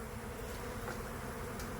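Honeybees swarm with a dense, steady buzz while being cleared out of a carport ceiling. The drone is continuous, close and unbroken, with no voices.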